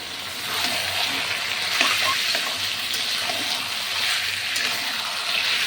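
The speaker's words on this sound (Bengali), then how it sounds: "চিকেনটা বসিয়ে দিলাম এই দেখো" Chicken sizzling steadily in hot oil in a pan, with a continuous loud crackle and hiss plus occasional stirring clinks, no talking.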